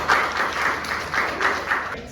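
Students in a university classroom applaud a group presentation, a short burst of scattered hand clapping in uneven pulses that fades toward the end, with faint talk underneath.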